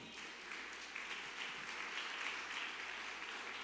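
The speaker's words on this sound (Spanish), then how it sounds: "Dale un fuerte aplauso al Señor" A church congregation applauds during a Spanish-language sermon, a soft, steady round of clapping heard from a distance, low in level and unbroken by speech.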